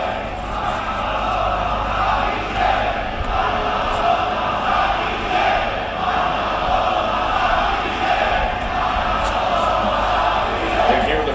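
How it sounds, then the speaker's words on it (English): A large wrestling arena crowd at a WWE SmackDown event roars and chants continuously, a dense, loud wash of voices filling the space throughout. "And here the crowd split with their chants."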